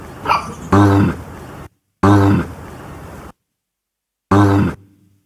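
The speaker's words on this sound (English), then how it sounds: "on the bass it has a recording of a pig from a farm in London" A recorded pig from a farm in London grunts in three close, loud bursts separated by clean silences, with a faint trailing murmur at the end.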